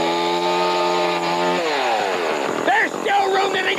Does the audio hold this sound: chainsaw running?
yes